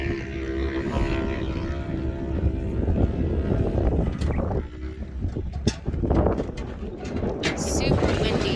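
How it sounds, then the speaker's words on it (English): Gusty wind buffets the microphone in loud, uneven blasts, with faint voices and outdoor activity underneath. "Super windy."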